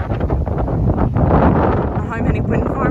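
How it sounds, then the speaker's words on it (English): Strong wind buffets the microphone in loud, rumbling gusts that roar continuously from start to finish. "It's a little windy!"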